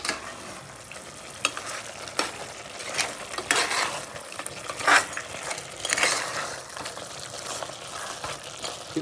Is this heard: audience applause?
no